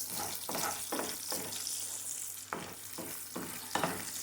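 Eggs stir-fry in a pan for a fermented fish (pla ra) dish, a continuous hiss broken by regular scraping strokes of a spatula roughly every half second, close and fairly quiet, with no talking.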